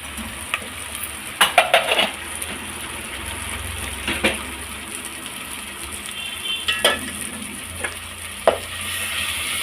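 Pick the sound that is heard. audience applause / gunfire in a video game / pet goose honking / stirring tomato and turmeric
stirring tomato and turmeric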